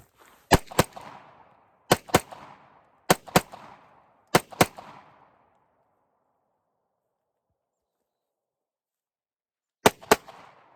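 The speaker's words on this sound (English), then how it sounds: "you can fire rapidly like this" A handgun fires in quick pairs: four close double shots sharp and loud in succession, a long silence, then one more rapid double shot, each crack ringing briefly.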